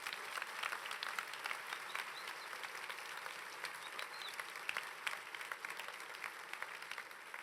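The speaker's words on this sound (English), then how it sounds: "can we get a round of applause for these volunteers?" Applause fills the hall at the DrupalCon Barcelona 2015 closing session, a steady, moderately distant crowd clapping for the volunteers, with scattered sharper claps and no speech.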